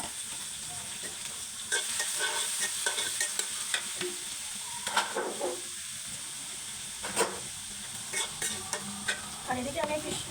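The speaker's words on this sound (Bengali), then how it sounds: "প্রত্যেকটা জিনিস আমি এখন তেলে দিয়ে নিচ্ছি, সুন্দর করে ভেজে নেওয়ার চেষ্টা করবো।" Ingredients for a bhorta fry in hot oil with a continuous sizzling hiss, broken by scattered scrapes and clicks of stirring in the pan.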